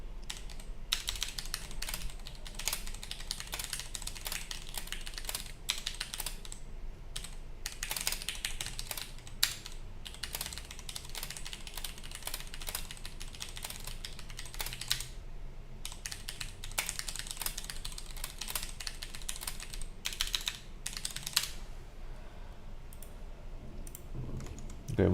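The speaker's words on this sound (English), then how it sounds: "Let me just type that in chat." Rapid, steady typing on a computer keyboard while chatting during a game, with dense close-up key clicks running continuously and no talking.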